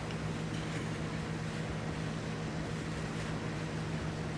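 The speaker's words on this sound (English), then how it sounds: "That's a potential bandit boat." A steady, low motorboat engine hum from the video game Arma 3 runs continuously with a hiss of water and wind over it, moderately loud and unchanging, with no voices.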